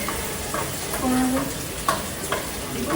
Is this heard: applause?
no